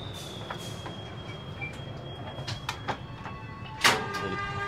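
Economy train Sritanjung pulling away from the station, a steady low rumble with a sustained high whine and scattered clanks, then a sharp metallic bang near the end.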